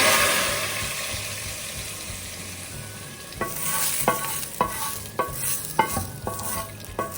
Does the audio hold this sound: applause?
no